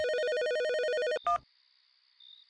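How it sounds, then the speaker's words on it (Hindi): A telephone ringtone trills in a rapid repeating electronic pattern for about a second, then cuts off with a short click and a faint lingering tone, loud and close with no talk. "करीब आधा घंटा बीत चुका था कि उसके फोन पर एक कॉल आई।"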